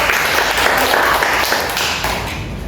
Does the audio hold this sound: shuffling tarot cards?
no